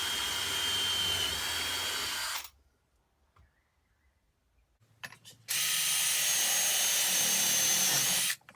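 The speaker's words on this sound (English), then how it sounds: "I'll refine it and I'll drill the holes." A power drill bores holes into a ramp skate in two loud whirring bursts, the first about two seconds long, then a quiet gap with small handling clicks, then a second sustained run.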